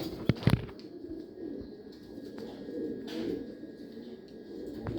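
Soft, low cooing from caged Jacobin pigeons rolls on in the background, with a few sharp clicks and taps near the start.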